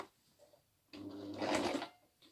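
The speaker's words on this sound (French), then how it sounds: "nous allons coudre un point droit à 3 mm du bord" A sewing machine runs a straight stitch along the edge of a 100% cotton fabric mask: after a quiet moment it whirs up for about a second of steady, close mechanical buzzing, then stops.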